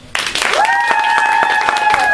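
Sudden burst of clapping from an audience at an improv show, sustained and fairly loud, with a tonal hum running underneath.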